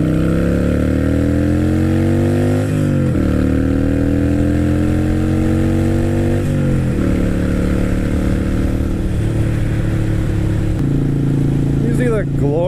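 Motorcycle engine droning steadily while riding, its pitch climbing through the gears in repeated rising sweeps, loud and close throughout, with a rider talking over it.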